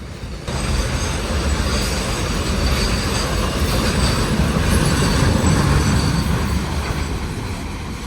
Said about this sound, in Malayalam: കണ്ടെയ്നർ കോർപ്പറേഷൻ ഓഫ് ഇന്ത്യയുടെ ഗുഡ്സ് ട്രെയിൻ പോകുന്നുണ്ടോ?